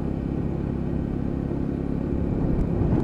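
A restored Lexmoto Ranger motorcycle cruises in fifth gear at about 30 mph, its engine a steady low drone that swells slightly toward the end.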